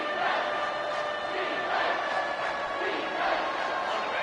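Football stadium crowd roaring before a big third down, a dense, sustained wall of cheering and shouting that surges slightly in waves, heard from within the stands at moderate level.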